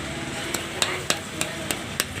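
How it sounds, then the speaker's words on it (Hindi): A stand fan motor coil winding is tapped flat with a hammer or pliers, six sharp, evenly spaced metallic taps close by over a steady background hum. "बत्ती को रखना है और किसी हथौड़ी या प्लास से इसके ऊपर ठोकना है।"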